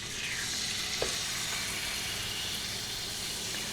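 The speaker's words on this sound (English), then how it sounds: "Once we have our pork chops sauteed, I'm gonna go in and saute our zucchini in the same pan." Jerk pork chops sautéing in a pan make a dense, even sizzle up close, with one brief clink partway through and no voices.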